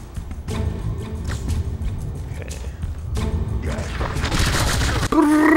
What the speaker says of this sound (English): I like the chain gun.